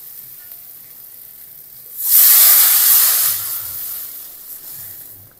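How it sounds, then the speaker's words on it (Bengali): Water hits hot, well-fried spice paste in a pan for a Bengali lote fish curry and bursts into a loud, hissing sizzle. The hiss swells suddenly, holds for a second or two, then slowly fades to a low simmer. "মশলা খুব ভালো মতো কষিয়ে নিয়েছি, এখন দিয়ে দেবো জল।"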